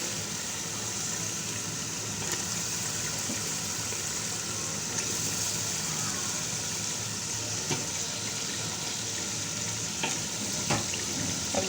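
Meat frying with spices in a pan for biryani, a steady dense sizzle with occasional stirring clicks and scrapes, close and continuous, no talking.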